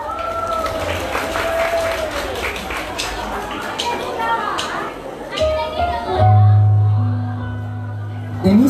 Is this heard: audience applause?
yes